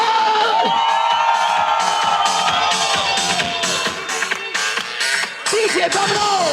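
Crowd cheering and making noise at a show in Riviera Maya, a loud sustained roar of shouts and whoops with clapping underneath that dips briefly before surging again.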